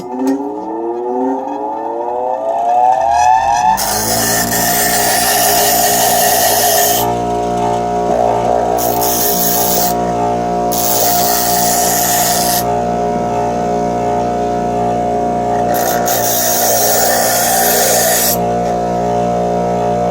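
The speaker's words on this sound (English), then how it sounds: "So let's see if I can do a little grinding and see if I can take some of the teeth off of here." Steady, loud grinding drone as teeth are ground off on the coarse side of a powered sharpener, spinning up at the start and holding a sustained whine with brief rougher passes, no talking.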